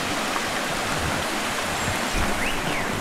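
The Sansar Khola river in Myagdi, Nepal, rushes past near a footbridge, making a dense, even wash of flowing water heard close and alone.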